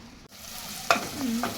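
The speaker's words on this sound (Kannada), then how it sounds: "ಎಣ್ಣೆ ಹಾಕಾಕ್ರಿ ಆಮೇಲೆ ಸಾಸಿವೆ ಜೀರಿಗೆ ಹಾಕ್ಬೇಕ್ರಿ" Mustard seeds and cumin hit hot oil in a pan, making a brief, close sizzle with a short stirring scrape.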